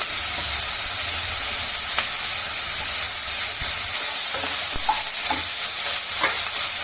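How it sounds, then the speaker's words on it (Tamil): Onions and tomatoes fry in a pan for masala egg rice, a loud steady sizzle broken by scraping spoon strokes that grow more frequent toward the end. "இப்போ வெங்காயம் நல்லா வதங்கிடுச்சு இல்லை கட் பண்ணி வச்சுருக்க தக்காளி சேர்த்துக்கலாம்"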